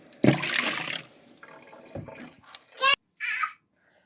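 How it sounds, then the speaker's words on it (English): Warm water poured into a mixing bowl for a double batch of pizza crust dough, with a few short splashing pours and sloshes at moderate loudness, with brief gaps between them and no talk. "So I'm going to put 2 cups of warm water"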